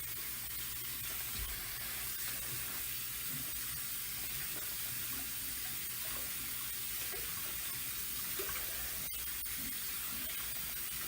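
Tap water runs steadily into a bathroom sink during rinsing, a continuous close hiss and splash with small clinks and shifts, no voices.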